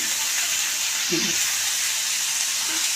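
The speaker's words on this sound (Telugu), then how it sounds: "ఉల్లిపాయలు కొంచెం దోరగా ఫ్రై అవ్వాలి" Sliced onions sizzle in a hot pan with tamarind for a spinach and onion dish, a continuous close hiss and crackle with a brief low voice murmur partway through.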